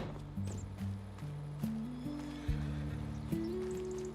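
Horses whinny in Farming Simulator 25 in the Carpathian countryside on a dark winter morning, a long wavering neigh with stepped pitch, alongside faint clip-clop and other farm animal noises in the background.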